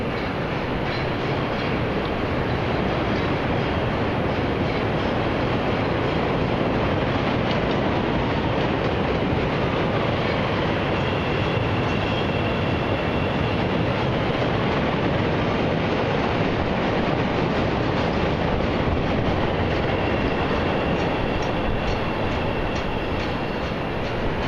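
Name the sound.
elevated train passing by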